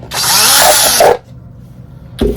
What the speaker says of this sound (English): I could just drill another hole in it and I'll use it